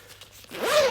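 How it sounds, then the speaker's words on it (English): A zipper drawn closed on a PGYTECH OneGo Roamer tote camera backpack, one quick rising zip up close, loud and alone. "And that zips up like that."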